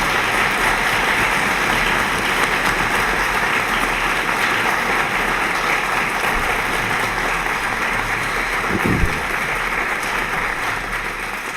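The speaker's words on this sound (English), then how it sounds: "Can we just give a round of applause to our past recipients?" Sustained applause from an outdoor crowd at the Lexington Patriots' Day opening ceremonies, steady dense clapping like rain that holds evenly for the whole span, with one brief low thump near the end.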